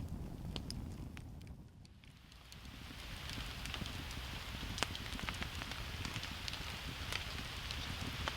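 Rain is starting on a tarp stretched above a tent at a wilderness campsite. Scattered drops patter and tap in a light, irregular rhythm over a soft, steady hiss, with a quiet campfire crackling nearby.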